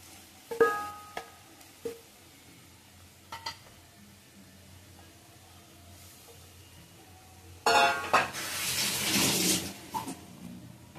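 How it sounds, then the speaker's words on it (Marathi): A few utensil clinks, then water from a blender jar is poured into a hot pan with paneer pieces, hissing and splashing loudly for a few seconds before fading into a sizzle. "थोडं मिक्सरचं पाणी टाकणार त्याच्यात"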